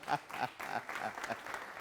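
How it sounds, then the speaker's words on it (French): Brief, fairly faint applause from a television show audience, steady clapping that continues without a break. "Merci de l'applaudir bien."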